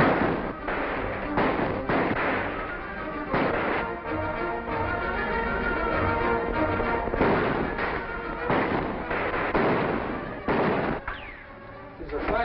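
Gunfire crackles through a 1944 western serial: sharp shots come in repeated bursts and scattered single reports across a narrow, dated film soundtrack.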